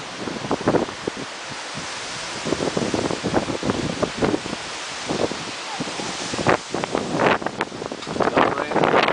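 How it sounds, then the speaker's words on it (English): Strong, gusting wind from an approaching severe storm buffets the microphone during an outdoor washer game, roaring steadily with sharper bursts and rustling throughout, with some speech under it. "the wind's hitting me in the back"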